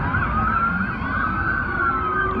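Many police car sirens blare together at once, forming a loud, continuous wall of overlapping wails that is steady throughout with no pauses.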